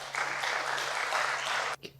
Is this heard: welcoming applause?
yes